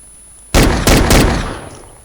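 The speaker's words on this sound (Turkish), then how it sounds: "Bak sana bir el boşa sıktım." Three quick, loud pump-action shotgun blasts in a video game, evenly spaced, each with a sharp crack and a short decaying tail.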